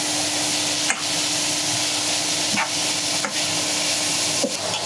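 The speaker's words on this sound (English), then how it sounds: "and then I'll just stir that all in" Food with Cajun seasoning fries in a pan, a steady broad sizzle broken by a few sharp scrapes of stirring, close and fairly loud.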